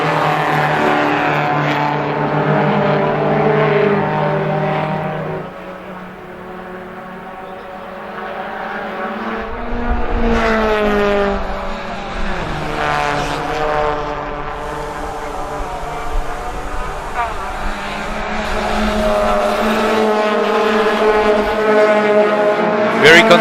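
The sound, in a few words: VW Challenge race cars lapping a racing circuit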